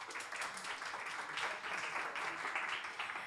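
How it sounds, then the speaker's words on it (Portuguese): An audience at an interdisciplinary humanities postgraduate academic event at a university in Amazonas gives moderate, fairly distant applause, a steady patter of many hands lasting a few seconds. "Uma salva de palmas,"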